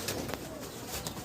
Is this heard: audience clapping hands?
no